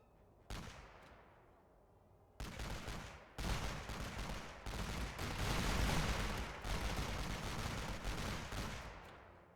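Gunfire rings out on a World War I Western Front battlefield in a video game: a single shot, then dense bursts of rifle and machine-gun fire with heavy booms, loud and sustained.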